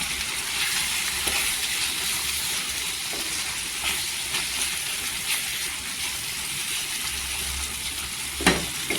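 Loud sizzling and crackling in a hot pan as 250 grams of sprouted moth beans are tipped in and stirred, with occasional clinks and scrapes of a utensil.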